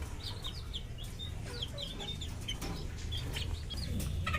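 Serama bantam chickens, among the smallest breed, clucking and chirping in a small backyard flock over a steady low hum, several short calls scattered near and mid-distance.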